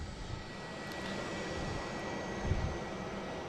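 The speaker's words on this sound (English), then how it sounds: "We have American Airlines and the Cape Air taking off here." Airliners, an American Airlines jet and a Cape Air plane, take off at Boston Logan International Airport, giving a steady, distant engine roar that swells slightly, heard without talk.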